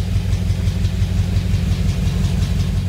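A 1985 Ford Bronco engine with an ignition problem idles on its own, a steady, loud, close rumbling drone with an even low pulsing throughout.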